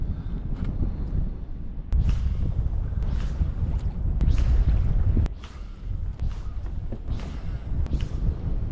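Strong wind whips across a lake during bass fishing, a steady blustery roar against the boat with periodic gusts and sharp knocks, no one speaking.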